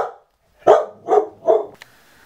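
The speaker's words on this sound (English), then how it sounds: "I don't know what he's barking at." A dog barks three times in a row, deep and fairly loud from close by, followed by a brief click and quiet room tone, no talking.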